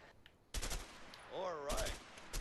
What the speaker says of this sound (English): M16, burst fire assault rifle